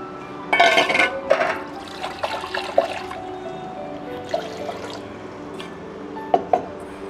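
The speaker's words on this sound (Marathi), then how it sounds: "मी अजून थोडं पाणी टाकणार आहे याच्यात।" Water poured into a pot of simmering matar usal, heard as soft splashing and trickling in uneven bursts with a few louder clinks, close and fairly quiet.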